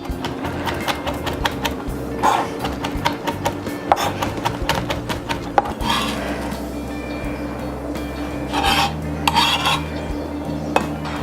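A knife chops food sprinkled with salt on a cutting board while making a yogurt Caesar dressing, giving a steady run of close, sharp taps with brief clusters of quicker strikes over a low kitchen hum, with no one talking.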